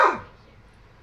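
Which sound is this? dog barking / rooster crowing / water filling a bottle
dog barking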